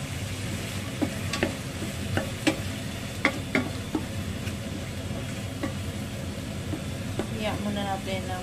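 String beans stir-frying in a pan, with a steady sizzle and the clicks and scrapes of stirring against the pan, a voice talking quietly over it.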